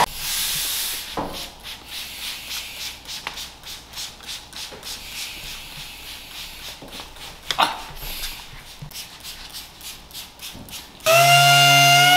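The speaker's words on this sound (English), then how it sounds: "going to sand it with 3000 with the palm sander" A palm sander works 3000-grit paper over the paint of a 2002 Subaru WRX bugeye, giving uneven rubbing, scrubbing strokes with brief knocks. It ends in a sudden loud, steady tonal whine.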